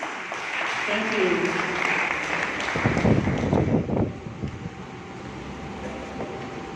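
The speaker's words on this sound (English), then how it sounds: "Let us give a warm applause to Dr. Rodrigo D. Avenes" Audience applause for a speaker being introduced at an education lecture, a broad steady patter of clapping that swells around the middle and then fades out, with a faint tone lingering afterward.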